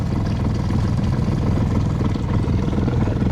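A steady, low center console motorboat engine drone rumbles nearby in a harbor without letting up, with no voices over it.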